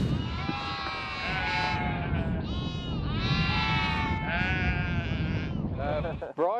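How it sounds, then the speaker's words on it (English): A flock of sheep brought down by a shepherd bleats steadily and loudly close by, many overlapping calls, with a sharp clatter at the end. "Have a look at these sheep."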